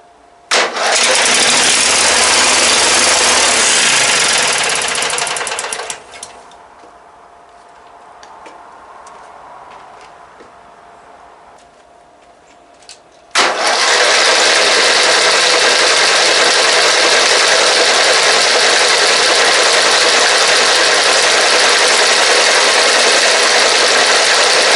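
A late-1990s Murray Select riding mower's Briggs & Stratton 17hp opposed-twin engine cranks and runs loud and steady, cuts out to a quiet lull, then fires again and keeps running hard at a constant roar to the end.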